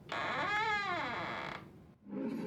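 A door opening in a video game: a single loud creaking squeak with a wavering, sweeping pitch lasting about a second and a half, then a short gap and a duller follow-on sound.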